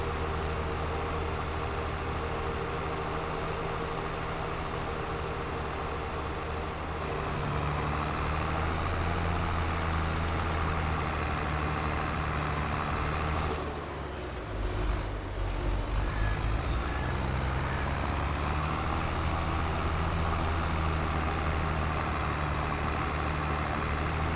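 A tractor engine in Farming Simulator 22 on the Alma, Missouri map drones steadily throughout, a loud continuous low rumble with a brief whoosh and shift midway, then carrying on at a slightly higher, rougher level.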